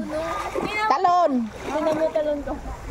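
Water splashes at a swimming spot during a family outing as someone jumps in, with a sharp splash in the middle and children and adults talking excitedly throughout.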